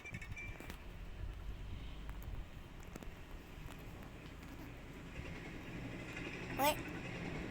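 A train in a video game rolls along as a faint, continuous low rumble with occasional clicks, under a short spoken exclamation, and a brief sharp rising squeal near the end.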